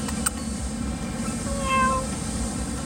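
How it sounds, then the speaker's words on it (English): A stray cat near an apartment gives a brief meow partway through, faint over a constant low outdoor rumble, with a couple of sharp clicks near the start. "meows sometimes, goes away and comes back"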